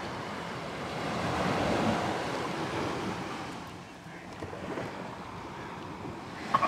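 Sea waves wash onto a shore in a broad, rolling roar that swells and fades, mixed with wind buffeting the microphone, heard close with a few faint knocks at the end.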